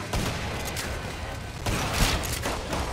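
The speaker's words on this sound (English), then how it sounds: "Time for the shotgun." Shotgun blasts in the Killing Floor 2 video game, several dense booming shots in close succession amid a constant clatter of chaotic game noise, with no voices.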